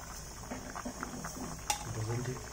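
Water boiling in a pot as smoked pork cooks, a soft bubbling simmer under a person talking, with a sharp click partway through.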